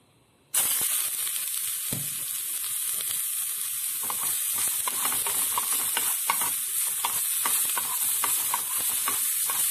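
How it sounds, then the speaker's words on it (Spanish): Garlic and onion fry in a little oil in a pan for a potato dish, giving a steady, loud sizzle and hiss with occasional stirring scrapes that runs almost the whole time after a sudden start. "vamos a sofreír lo que es el ajo y la cebolla en poquito aceite"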